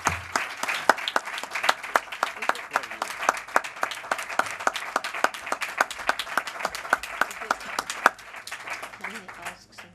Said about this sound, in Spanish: creo que te debemos un aplauso